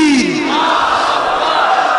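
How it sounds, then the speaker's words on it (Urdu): A large rally crowd roars a slogan response in unison at an event during a 2012 tour in Kutch, India, a loud sustained mass shout rising in pitch and holding steady for the full stretch. "ہاتھوں کو لہراتے ہوئے بلند آواز سے ان کا استقبال کریں"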